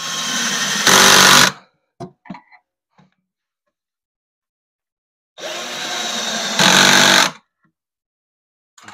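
A power drill whirs in two bursts, each rising to a higher-pitched spin as it bites into a camper cooking counter, with a few light clicks and knocks between them.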